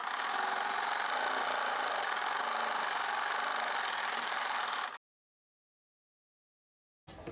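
A sewing machine stitches blouse fabric with a steady, close whirring hum for about five seconds, then stops dead into silence before a brief burst of running starts again at the very end.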